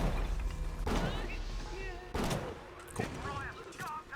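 Video game gunfire during a speedrun, a few loud sharp shots spaced irregularly, each followed by a ringing decay, with talk running between them.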